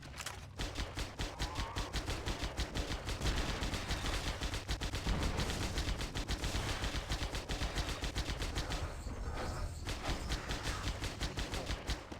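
Rapid automatic gunfire rattles almost without pause in the Halo mod SPV3. Loud, close, bursting shots run throughout, with only brief gaps near the end.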